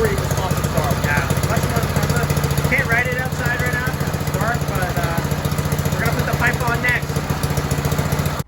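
A Predator 212 minibike engine with a modified exhaust pipe and carburetor, running loud and close with a fast, steady putter and brief revs as people talk over it.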